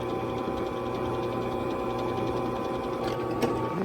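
A drill turns a dull, two-headed chamfer bit in a hole and gives off a steady, close mechanical whir with a fast rhythmic pulse, and a couple of brief clicks come near the end.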